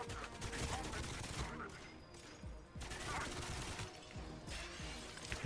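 Gunfire in the GoldenEye 007 Reloaded video game at the Archangelsk facility: dense, continuous bursts of automatic shots fill the whole stretch, loud and close, with brief lulls between volleys.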